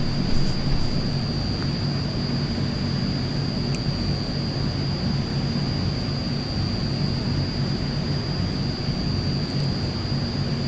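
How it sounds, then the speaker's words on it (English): A jet taxiing in Microsoft Flight Simulator, passing in front of a held AzurPoly C-160 on the ground, gives a steady, continuous engine roar with a thin high whine running throughout. "we got a hold here while this jet pulls in front of us"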